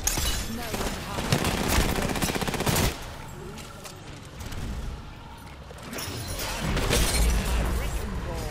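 Rapid automatic gunfire in a shooter video game, dense bursts in two loud stretches separated by a quieter lull, with a player talking over the action.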